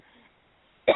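A single short, close cough bursts out at the very end after near silence, from a person with postnasal drip during a golf talk show interview.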